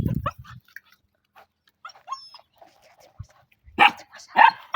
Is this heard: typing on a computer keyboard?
no